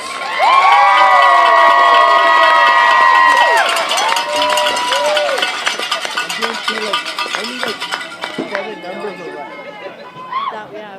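A crowd at a bantam youth football provincial final cheers loudly for the Nanaimo Seahawks, with whistles or horns over dense shouting at first, then easing into mixed yelling and chatter.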